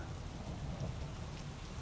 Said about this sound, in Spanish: Ha comenzado a llover.